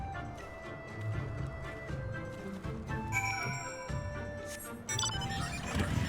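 Horses in the video game Final Fantasy XIV clip-clop at a steady pace amid faint jingling and clatter, with a brief whinny-like call, all soft and without speech.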